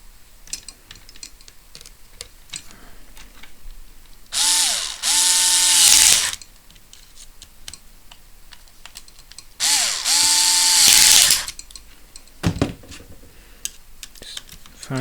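Two bursts of a small electric driver tightening screws on a Tamiya Lunchbox RC car, each a few seconds of whirring, with light clicks and handling of parts between them.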